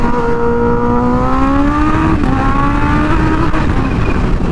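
A Kawasaki Ninja H2 motorcycle running an unlocked tune accelerates hard. It gives a loud, rising engine whine that climbs in pitch, dips briefly at a shift near the middle, then keeps pulling close up.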